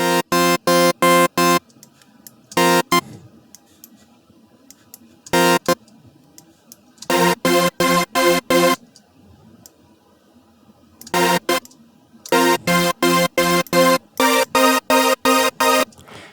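Bright, buzzy additive sawtooth wavetable tones from the Xfer Serum synthesizer, played in short bursts of repeated stabs with silent gaps between them, loud and close.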